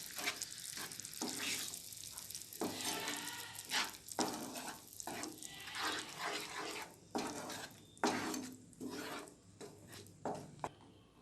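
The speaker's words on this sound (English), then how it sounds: "Stir it well." Paneer butter masala paste stirred in a pan, with repeated rough scraping and rubbing strokes in uneven bursts over a soft sizzle, close but fairly quiet and without talking.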